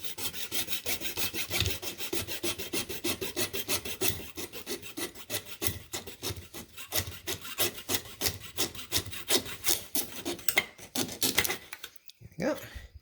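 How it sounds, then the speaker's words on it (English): A hand saw cuts back and forth in quick, even rasping strokes during an LED speaker swap on an XRGB Eco Swing, steady and close, before the strokes break off near the end. "we're just going to stick this in here like so and start sawing away"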